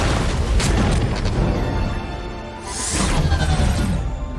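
A heavy, rumbling missile explosion from a Captain America film swells and fades, followed by a second rushing burst of debris-like noise; dense, loud, with no voices.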